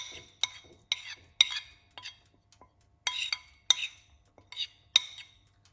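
A metal spoon stirs bitter kola tea with grated ginger in a pot, giving sharp clinks against the sides in an uneven series of about a dozen taps, close and fairly quiet.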